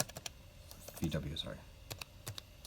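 Keystrokes on a computer keyboard, typed while connecting a PC to a VW Mk3 Golf, come as scattered sharp clicks in short bursts, with someone talking over part of it.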